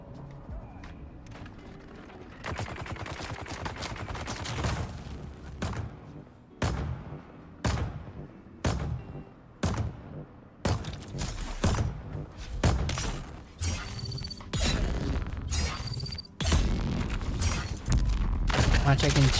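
Gunfire in a shooter video game with vampire enemies: repeated sharp shots in uneven bursts, some rapid, over a constant layer of game noise and mechanical clatter.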